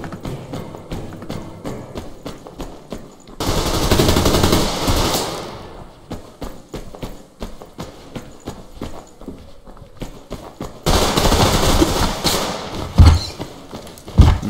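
Rapid bursts of automatic gunfire in the shooter game Survarium, loud and dense, alternating with stretches of rhythmic footsteps and quieter in-game sound.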